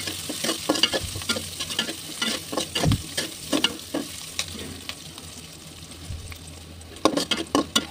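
Onions fry and sizzle in a pan under steady stirring, with repeated scraping strokes of the spatula over a constant hiss, close by; a cluster of sharper clatters comes near the end.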